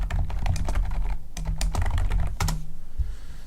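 Rapid, uneven keystrokes on a computer keyboard as a section name is typed in a website builder, close and clear with no talking.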